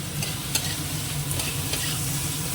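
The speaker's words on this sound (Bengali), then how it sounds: "একটু ভেজে নিই চিনি মাছটা দিয়ে দেবো" Fish, previously salted and dusted with a little turmeric, frying in a pan as it is stirred: a steady close sizzle with occasional scraping clinks of the utensil, no voices.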